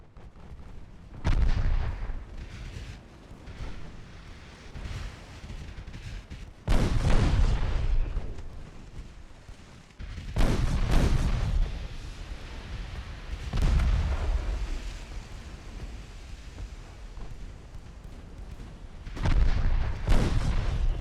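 Heavy naval gunfire from warship battles in Ultimate Admiral Dreadnoughts, French Empire fleet: repeated booming salvos roughly every few seconds, loud with rolling rumble and long decays.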